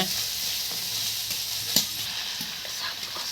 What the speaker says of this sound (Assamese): এতিয়া এইফালে আদা নহৰু দি আছে, পিঁয়াজ দিলে, ভালকৈ অকণমান লৰাই লৈছে।